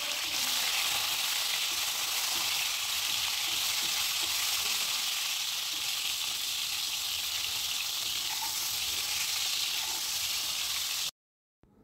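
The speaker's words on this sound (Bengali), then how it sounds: "এখন এই গরম তেলের মধ্যে পটলগুলো দিয়ে ভেজে তুলব।" Pointed gourd frying in hot mustard oil sizzles with a steady, dense crackling hiss, close and loud throughout, then cuts off abruptly near the end.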